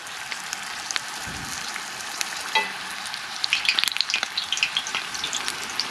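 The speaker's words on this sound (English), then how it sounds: "you let it fry." Frybread dough frying in hot oil, a steady crackling sizzle with bursts of popping bubbles throughout, close and moderately loud with no voices.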